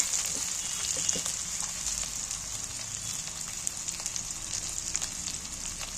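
Steady frying sizzle of onion, cauliflower and garlic, loud and continuous, with scattered pops and crackles over a constant hiss; no voices.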